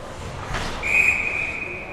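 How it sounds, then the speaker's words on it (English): A referee's whistle blows one sustained shrill blast to stop play at a women's ice hockey game, over a noisy arena crowd, fairly near and clear. "Whistle's going to be blown for stoppage of play"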